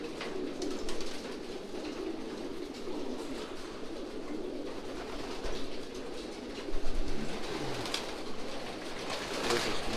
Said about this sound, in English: Sorry, Yanni, more feathers just coming off from the birds from moving.